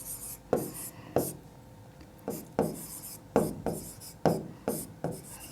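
A pen writes a math solution on paper with a rhythmic run of close, crisp scratchy strokes, about a dozen short bursts with brief pauses between them, fairly quiet and with no voice over them.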